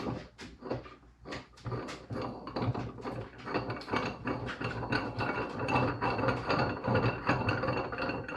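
A nut being tightened onto the shaft of a Harbor Freight mini tire changer, heard as a run of close metallic ratcheting clicks and clanks at an irregular rhythm with no talking.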